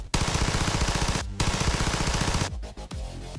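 Rapid machine-gun fire made as a game sound effect, a dense, loud stream of shots with a brief gap, then another burst that breaks into a few stuttering final rounds.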